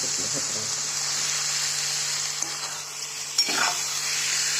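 Mashed eggplant bharit cooking in oil in a pan, a steady soft sizzle with occasional stirring scrapes and a faint hum, voices low in the background.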